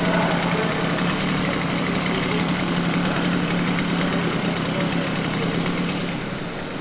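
A small two-stroke engine of a Motorynka moped runs steadily and close, its buzzing, rattling drone holding at a constant level with no voices.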